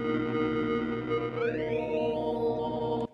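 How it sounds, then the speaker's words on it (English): A bright, buzzy synthesized tone from a Yamaha YC stage keyboard with stacked harmonics holds steady, then glides upward in pitch, like a retro 8-bit computer sound, ending abruptly. "That 8-bit sound kind of thing."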